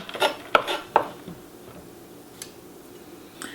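Pasta with red clam sauce and freshly chopped parsley tossed together, giving three quick, close utensil clinks against the pot, then a soft, quiet stir.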